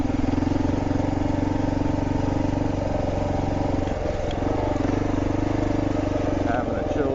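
Kawasaki KLR650 motorcycle creeping along a forest trail at Tahuya in first gear, its single-cylinder engine giving a steady, close, low thrumming drone throughout with a slight dip midway.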